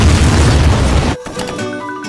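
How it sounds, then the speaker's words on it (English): A tank fires in a Roblox game: one loud, close blast with heavy low rumble that cuts off abruptly, followed by a fainter ringing tail. "It was the tank. It makes so much sound."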